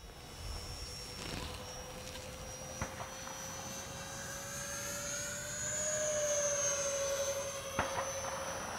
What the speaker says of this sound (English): Man, it's a good flying airplane.